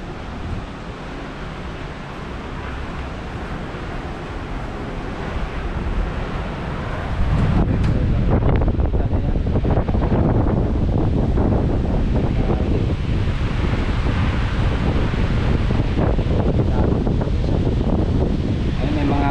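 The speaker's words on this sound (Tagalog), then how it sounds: "Lakas ng hangin." Typhoon Ragasa's strong wind roars and buffets against the microphone in Hong Kong under Signal 10, growing louder and harsher partway through and staying intense to the end.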